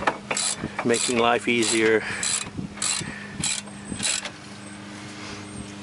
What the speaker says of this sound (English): you can see we're using a new ratchet that we bought